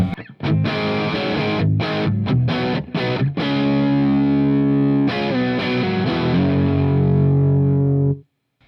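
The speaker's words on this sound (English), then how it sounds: "we're going to hear the dirty channel of the amp by itself" Electric guitar through an amp's dirty channel with no pedal, with crunchy distorted strummed chords, brief gaps between hits, then long ringing sustained chords fading at the end.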